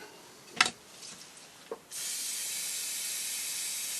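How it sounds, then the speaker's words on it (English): Hairspray aerosol on a sugar hellebore flower: a couple of short taps and bursts, then one continuous steady hiss of spray held for about two seconds, close and fairly quiet. "Over with your hairspray."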